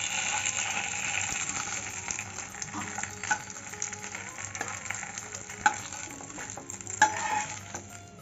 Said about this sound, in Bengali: এইভাবে সবকটা তোমাদের ভেজে দেখাচ্ছি